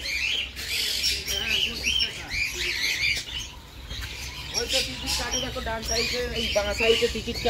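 Many nesting birds squawk and chirp in a deer park at Garchumuk near Uluberia, a busy overlapping chorus of harsh calls close by, with someone speaking over them at times.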